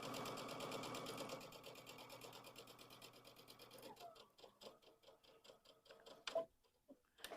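A sewing machine stitching a fabric pumpkin pillow chatters in a rapid, even rhythm for about four seconds, fairly quiet and close, then slows to a few separate ticks and stops.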